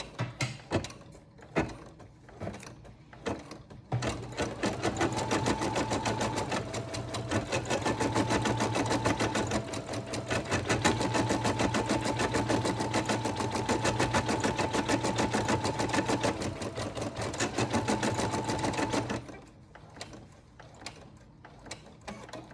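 A Brother SE425 embroidery machine stitches a design in a steady, rapid mechanical whir for about fifteen seconds, with a faint tonal hum riding on top. Scattered sharp clicks and taps come before the run starts and after it stops, and nobody speaks.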